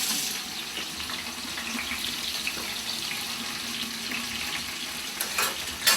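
Hot water added to a wild asparagus frittata in a hot pan, giving a steady broadband sizzle and hiss that continues throughout, with a few sharper crackles and a louder burst at the end.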